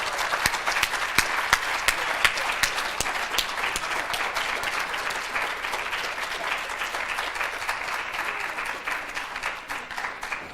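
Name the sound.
applause for the panelists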